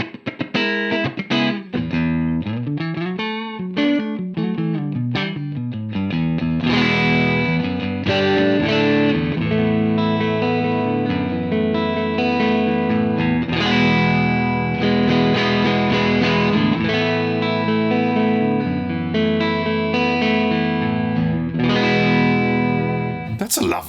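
Electric guitar played through a UAFX Lion '68 Super Lead amp pedal set to an edge-of-breakup clean tone, with single notes giving way to full strummed chords that ring out steadily and loud, with no talking.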